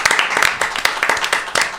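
An audience claps in a short, uneven burst of separate hand claps, fairly close and lively, with a little voice mixed in.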